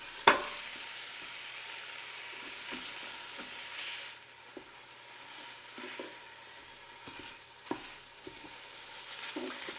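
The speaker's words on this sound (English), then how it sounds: "we're gonna go ahead and put in our ground beef to start sauteing" Ground beef sautéing in a pot as it gets broken up: a faint, soft sizzle under scattered scrapes and light knocks from a spoon, with a sharper clatter at the start, fairly quiet and without speech.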